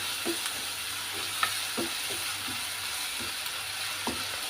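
Onions frying and being stirred in a pan, a steady hiss with scattered scraping clicks of a spoon at irregular intervals, moderately close and alone with no talk.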